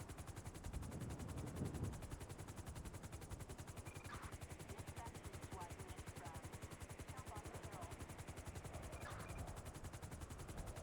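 Air 1 police helicopter hovering in GTA, a steady fast rotor thump running continuously and evenly throughout, with faint radio-like chatter and small blips layered underneath.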